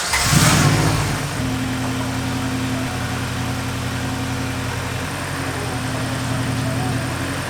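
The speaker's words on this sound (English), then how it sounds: "With the transmission back in the car, it is now time to say a prayer and hope to God that this transmission noise is fixed." A Honda Civic's engine runs steadily after a transmission repair, starting with a brief louder rev and then settling into a constant mid-pitched hum with faint whine, close and continuous, no talking.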